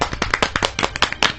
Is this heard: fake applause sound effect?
yes